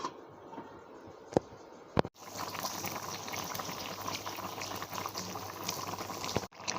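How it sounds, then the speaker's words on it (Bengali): Fish curry with vegetables bubbling away in a covered pot: a couple of sharp clicks from the lid, then a continuous close, even boil that stops abruptly at the end, with no talking. "এবার ঢাকা দিয়ে ফুটতে দেবো।"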